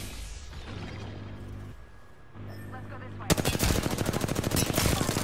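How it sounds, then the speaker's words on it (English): Rapid automatic gunfire from an Apex Legends match bursts in loud and dense after a quieter stretch of game sounds, with a player talking over the shooting. "Just keep shooting, keep shooting, keep shooting."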